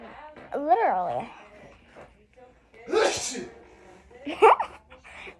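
A person sneezes twice, each a short sharp burst in a quiet indoor room, with a brief vocal sound before them.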